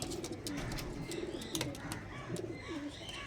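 Pigeons, including black ones, coo nearby in soft repeated phrases, a few birds overlapping, with faint chirps and rustling in the background.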